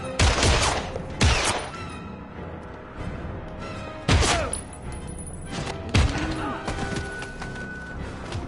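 Bursts of heavy gunfire in the game Heavy Rain, loud volleys separated by quieter gaps with echoing tails and impacts.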